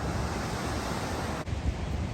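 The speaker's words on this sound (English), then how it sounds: "Rocks and waves all around to just listen and watch and enjoy nature." Ocean waves wash against rocks at Paradise Bay near San Juan del Sur, Nicaragua, a steady close roar of surf with wind buffeting throughout and no voices.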